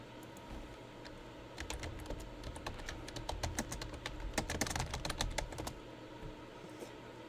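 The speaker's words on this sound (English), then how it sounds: "Sorry about my loud ass keyboard" A loud computer keyboard clatters with rapid keystrokes that build into a dense burst of typing midway, then fade back to sparse taps in a quiet room.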